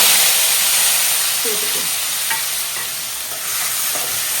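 Tomatoes and onions are tossed into oil with fennel seeds for a fish curry, bursting into a loud, dense sizzle with steam hiss and a few spoon clinks while stirring continues close by.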